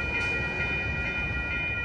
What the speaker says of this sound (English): Here comes Amtrak 529 to San Jose Diridon Station.